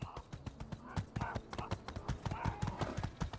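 Horse hooves in a video game clopping in a fast, uneven run of hard knocks, fairly close, the footfalls following one another almost without pause.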